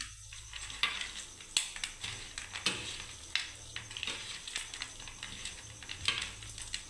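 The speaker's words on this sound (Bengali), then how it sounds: "পুরো ভালোভাবে চটকে নিচ্ছি বন্ধুরা। দেখুন রসুনটাকে" Garlic is mashed by hand for Bengali bharta, giving soft wet squelches and sharp clicks at an irregular, steady pace, close up and fairly quiet with no talking.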